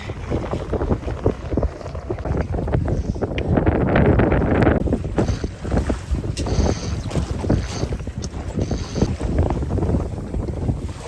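A sailboat under sail with its motor cut moves through the water, heard as heavy, gusting wind buffeting the microphone and rushing water and hull noise, loud and continuous with rising and falling surges.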